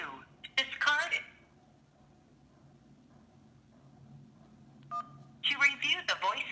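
Keypad tones from a phone dialing into a voicemail menu, short beeps between stretches of a recorded menu voice speaking.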